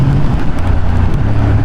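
A Honda Hornet 750 motorcycle engine drones steadily on the road, a low continuous rumble with wind noise over the microphone and no voices.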